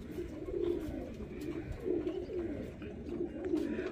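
A pair of pigeons, a male and female bought from netters in Karachi, give soft, low cooing calls in three or four repeated rolling phrases, close by, with no talking.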